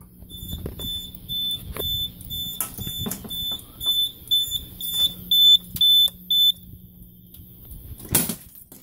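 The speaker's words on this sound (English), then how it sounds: "whenever you flip the supervisory switch, it'll go into alarm" A fire alarm system goes into supervisory alarm during a system test, sounding a steady run of loud, evenly spaced electronic beeps over faint background noise, ending with a brief louder burst.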